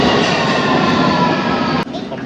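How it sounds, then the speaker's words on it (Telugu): A London Underground train pulls into a station platform deep underground, a loud, sustained rumble and roar with steady tonal whine that cuts off abruptly near the end and then continues more quietly. "సో మేము ఎక్కబోతున్న ట్రైన్ అయితే వచ్చేసింది."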